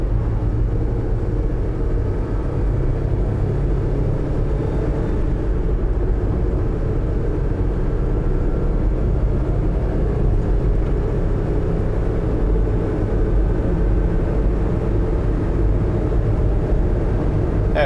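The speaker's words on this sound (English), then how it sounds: "let's accelerate up through the gears. This is a faster bit of road, so we'll get up to 50 or 60." A 2011 Mitsubishi Minicab 4WD kei truck with the U62T model code accelerating through the gears on a faster road, heard from inside as a steady low engine drone and rumble with road noise, constant and fairly loud.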